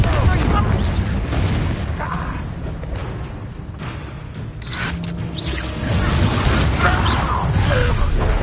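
Confringo spell blasts in the Hogwarts Legacy video game, dense rumbling booms and bursts layered with battle noise, loud and continuous with a dip in the middle before surging again.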